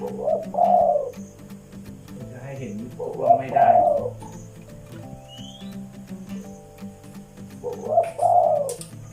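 A spotted dove kept as a decoy bird coos indoors in a quiet house, giving three separate rounds of close, soft cooing with faint background hum between them.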